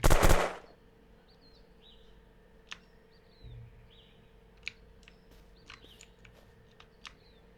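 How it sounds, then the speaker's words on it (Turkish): Distant gunfire from a firefight in a town in the video game Unturned: a few faint, scattered shots and short bursts spread over several seconds, with a loud burst at the very start and no talk. "şu kasabada bir çatışma sesi duydum"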